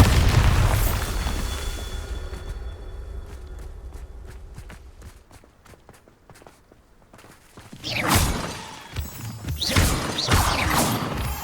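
A Bombarda blast spell erupts in the Hogwarts Legacy video game with a loud, deep boom that fades into quieter footsteps and clatter, followed by another rumbling explosion and heavy blasts toward the end.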